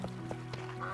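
Ducks in Potion Permit quack in a few short, rhythmic calls over a steady low hum, moderately close.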